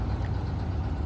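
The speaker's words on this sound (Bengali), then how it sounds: "বুকে নৌকাটা ছুটে চলছে" A boat engine runs on a river with a steady, low, continuous drone that holds an even level throughout, with no talking.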